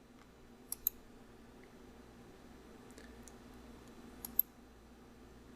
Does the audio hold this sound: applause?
no